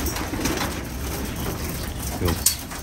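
Pigeons coo softly in a racing-pigeon loft crowded with birds, low murmuring calls running steadily through the clip with a brief sharper rustle near the end.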